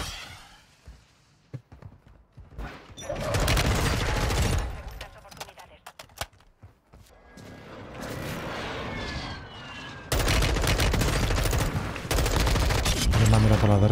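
Dense automatic gunfire and bursts of shooting in Call of Duty: Warzone 2.0, loud and sustained through most of the stretch with brief quieter gaps, mixed with game effects and occasional voice.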